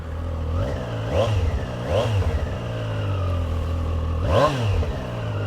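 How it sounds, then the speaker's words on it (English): Triumph Daytona 660 three-cylinder engine starting and being blipped, with several sharp revs climbing and falling back to a rough, throbbing idle, loud and close. "get it started, see what it sounds like. It's got the clutch pull on the classic Triumph, and it's got that triple sound"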